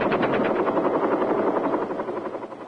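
Bell UH-1 Huey helicopter in flight over Vietnam in 1967, loud rhythmic rotor thumping over a dense engine roar that eases slightly toward the end.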